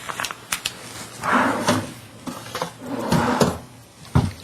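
The drawer of a church confessional slides open and shut twice, each stroke a near, hollow wooden scrape ending in a knock, with small clicks and rustles between.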